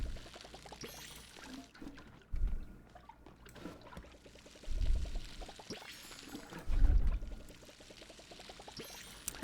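Water pours in three short splashing bursts over newly planted seeds in the cozy farming game Palia, set against soft, steady background music.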